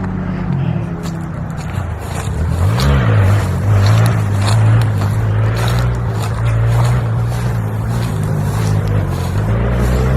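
Motocross race motorcycles nearby, their engines droning and rising and falling in pitch as the bikes accelerate and shift, heard continuously outdoors from a residential street.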